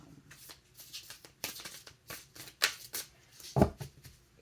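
A deck of cards being shuffled by hand, close and fairly loud, in bursts of riffling and sliding with gaps between them and a sharp slap near the end, with no talking.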